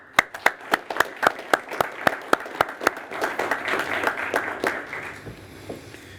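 An audience at a city council meeting claps in a loud, steady unison rhythm of crisp beats that then dissolves into dense, continuous applause before fading out.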